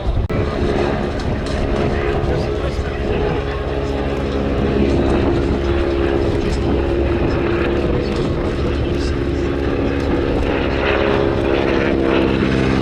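An old propeller aircraft making a display pass at an airshow drones steadily and loudly throughout, a sustained rumbling roar with no break.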